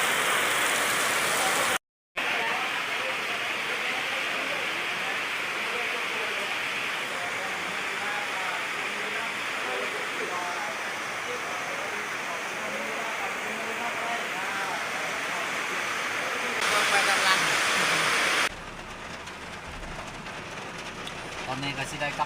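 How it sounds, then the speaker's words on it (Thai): Heavy rain falls in a storm, a loud, dense and continuous hiss that runs steadily throughout and swells briefly near the end. "ฝนตกแห้ง"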